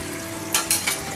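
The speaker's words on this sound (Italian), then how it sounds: "Aggiungiamo un po' di acqua di cottura e continuiamo a farli cuocere." Pasta cooking water poured into a pan of broccoli, giving a short burst of sizzling with a few splashy hisses over a steady low simmer in a home kitchen, no voices.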